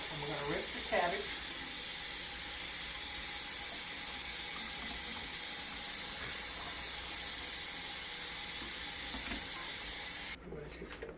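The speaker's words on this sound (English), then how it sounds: "we're going to rinse the cabbage" Cabbage being rinsed under a running tap, heard as a steady, close hiss of flowing water that goes on unbroken for about ten seconds and then stops abruptly, with a voice briefly audible near the start.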